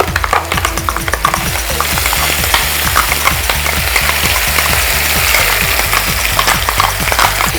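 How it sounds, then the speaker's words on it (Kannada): A ground masala paste sautés with onions in a pan for pudina paneer, sizzling loudly and steadily while a spoon scrapes and stirs in a regular rhythm, with no voices. "ಇದರ ಹಸಿ ಘಾಟ್ ಹೋಗೋ ತನಕ ಬಾಡಿಸ್ಕೋಬೇಕು"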